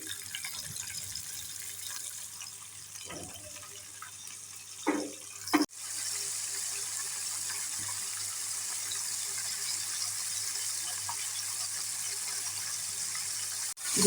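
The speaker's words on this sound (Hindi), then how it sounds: "ऑयल हमारा गर्म हो गया है और इसमें हम विंग्स को जो है वो डीप फ्राई कर लेते हैं।" Chicken wings for spicy Korean-style fried wings deep fry in hot oil. A quiet stretch ends with a sharp clunk, and then a loud, steady bubbling hiss carries on to the end.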